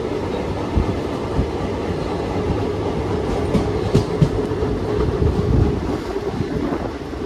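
A crowded passenger train rumbles past on the rails at close range, with a steady heavy roar, rhythmic clickety-clack of wheels over joints and gusts of wind noise. No speech is heard.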